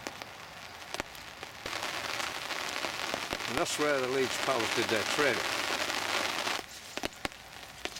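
Steady, heavy rain hissing down outdoors at Topcliffe while someone talks over it, the downpour easing off abruptly near the end.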